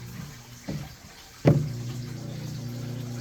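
A steady low hum of a small circulation pump runs throughout, with a couple of knocks and a faint trickle of circulating rainwater.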